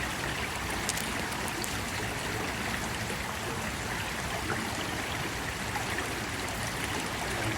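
River water flows steadily through a lagoon-like stretch of a Smoky Mountain river, a constant, fairly loud rushing wash with no voices.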